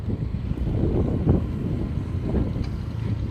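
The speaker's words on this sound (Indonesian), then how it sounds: "Dulu sebelum ada mesin traktor seperti ini, pengolahan tanahnya itu menggunakan hewan ternak seperti lembu ya." Diesel engine of a hand tractor tilling a rice paddy, a steady low rumbling drone running continuously throughout with gusty wind noise layered on top.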